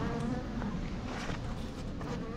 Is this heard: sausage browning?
no